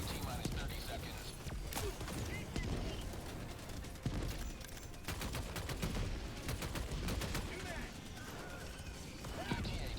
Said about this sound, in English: Gravy the Adjudicator has a lot of recoil